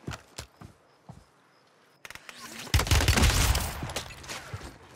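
Rapid bursts of video game gunfire from an enemy shooting at the player, a few sharp shots at first, then a loud dense fusillade that keeps rattling to the end.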